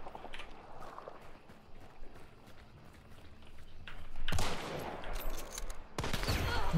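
Gunfire from a video game breaks out in loud, dense bursts over low background noise. The volleys start partway through and return near the end.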